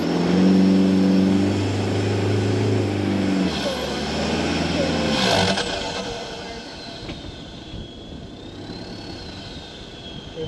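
Car engine labouring uphill on a steep dirt track, a loud droning rev that rises and then fades to a lower rumble mixed with rough crunching from the tyres and body.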